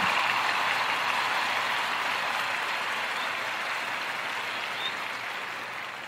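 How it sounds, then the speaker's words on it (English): An audience breaks into applause, a dense wash of clapping from a crowd that stays loud, then tapers gradually over several seconds. "Let's give yourselves a nice round of applause"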